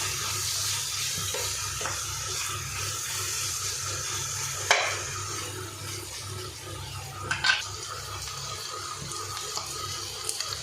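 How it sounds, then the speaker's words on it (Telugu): Ginger garlic paste fries in a pan with a steady, close sizzle and hiss, broken by a few brief stirring clatters against the metal. "మనం వేసిన అల్లం వెల్లుల్లి పేస్ట్ కూడా పచ్చివాసన పోయే వరకు ఇలానే ఫ్రై చేసుకుందాం"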